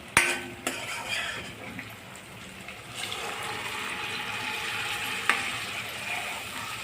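Cooked chickpeas and peanuts are tipped into a pot for a peanut and dried chickpea curry and stirred, with a few sharp clinks of a spoon against the pot over a soft sizzle, close and fairly quiet.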